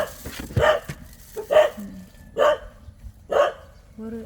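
Dog barking in a house yard, four evenly spaced loud barks about a second apart, close by, with faint voices and household sounds between them.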